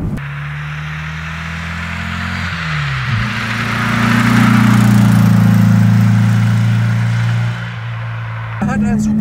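A 1964 Porsche 356 C coupé with its original 100 hp engine and a special exhaust runs loud and close, idling, then rising in a steady rev that holds before dropping back to idle.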